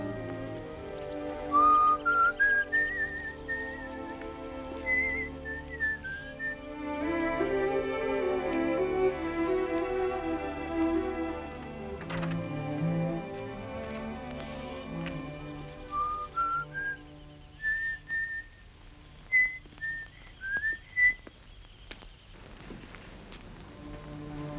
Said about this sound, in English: you wait here and whistle yourself a little tune till I come back